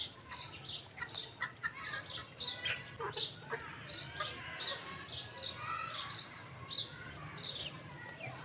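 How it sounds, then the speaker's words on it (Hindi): Aseel hens feeding on millet, giving repeated soft clucks and chirpy calls at close range over a low ambient background, with no talk. "ये हमारी सारी मुर्गियाँ खा रही हैं बाजरा"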